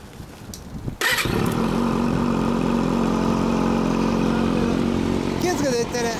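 A 1995 Suzuki Bandit 250V motorcycle with a Danmoto muffler starts abruptly and settles into a loud, steady, high-revving idle close by, with people talking faintly and a brief throttle blip near the end.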